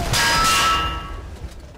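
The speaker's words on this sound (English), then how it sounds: "The bell." A bell clangs in Gears of War 3 during a tournament final, one bright ringing strike that sustains loudly, then fades away over roughly a second with low background rumble.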